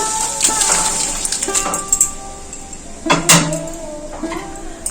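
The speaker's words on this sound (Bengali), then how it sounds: "এর মধ্যে আমি সিদ্ধ করে রাখা পালং শাক দিয়ে দেবো" Boiled spinach drops into an oily spice mix in a pan, giving a few clinks and scrapes of metal cookware with light sizzling, close and moderate in level, no one talking.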